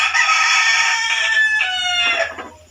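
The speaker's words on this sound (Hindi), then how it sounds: "देखो मुर्गा बराबर अजान दे रहा।" A rooster crows loud and close in one long, drawn-out call that wavers and breaks near the end before fading out.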